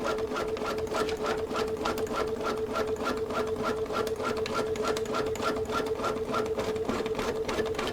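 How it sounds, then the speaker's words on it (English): A sewing machine stitches back over a basting line on Tyvek stabilizer, running in a fast, even, continuous mechanical chatter at steady volume close by, with no pauses or speech. "it's sewing right back over that first line, that first basting stitch"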